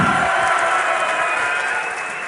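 Dense esports arena crowd roaring and cheering continuously at the DreamHack Winter 2012 finals, a broad wash of many voices held steady at high volume with no single speaker standing out.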